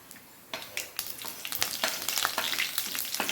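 Mustard seeds and cumin hit hot oil and erupt into a crackling sizzle, with quick pops and spits that grow denser after a quiet first half-second.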